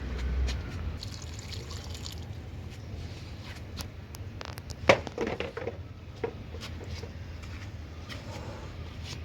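Water is poured from close by into a potted plumeria in an eight-inch pot, giving a soft trickle and splash over the soil, with light knocks and handling sounds against a low background hum.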